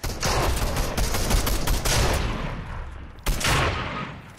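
Close, loud Fortnite gunfire: a dense burst of rapid shots rattles for about two seconds, trails off, then a second short volley cracks out.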